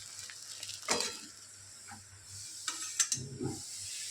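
Prawns frying in hot oil for a prawn kalia, a steady soft sizzle with brief louder crackles and clinks as pieces are lifted out one by one; no talking.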